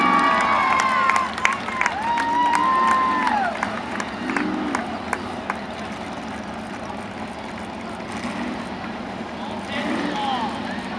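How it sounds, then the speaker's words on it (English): Crowd cheering and applauding at a dirt track race as the 2015 Street Stock champion walks up for his victory, a broad steady wash of noise with whistles and an announcer talking over it. "Nice round of applause."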